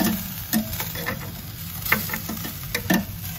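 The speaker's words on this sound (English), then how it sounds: "it sounds like there's a good sizzle here" Chicken thighs sizzle on a Big Green Egg grill, a steady close crackle and hiss with occasional sharper pops and ticks, no voices.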